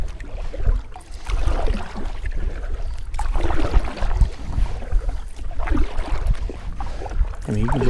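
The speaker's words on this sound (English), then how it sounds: "you can just keep paddling and use the rudders to steer" A Vibe Sea Ghost kayak is paddled across open water, with soft rhythmic splashes and swishes of the paddle repeating every second or so amid wind and water noise.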